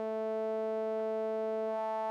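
Resonant modular synthesizer filter sweeping a steady harmonic-rich tone, with bright overtones stacked above a firm low fundamental and a faint swept emphasis drifting across them; the tone stays sustained and even for about two seconds, with no voices.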